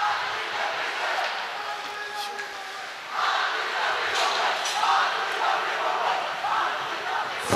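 Crowd cheering at a Connellsville vs Carrick high school hockey playoff game, a broad rumbling roar of many voices that swells louder partway through and stays sustained, with indistinct shouts mixed in.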